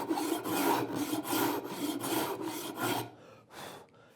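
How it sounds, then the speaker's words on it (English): A wood rasp worked on its finer-toothed side makes rhythmic rough scraping strokes, about seven steady passes close up, then a pause and one last stroke. "I've switched my rasp over to the opposite side to smoother. So this is the finer teeth working now."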